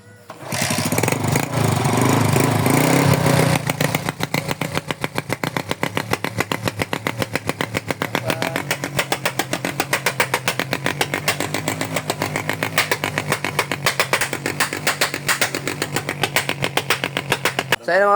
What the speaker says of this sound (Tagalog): kitang-kita nyo naman success yung pagkabit natin ng rapid backfire